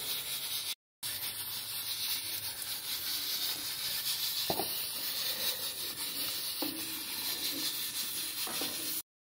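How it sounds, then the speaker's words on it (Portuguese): Steady hiss of steam escaping from a pressure cooker of cooked beans on a flat-top stove, continuous and fairly loud throughout, with a brief cut near the start and a few faint knocks. "Tirando o ar do feijão aqui"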